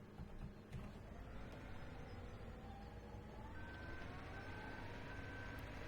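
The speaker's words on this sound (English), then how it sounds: "I think Bobcats are one of the most known skid steer brands out there" A Bobcat 863 skid steer loader working on a concrete patio build, with a steady low engine drone throughout and evenly spaced reversing beeps joining in the second half.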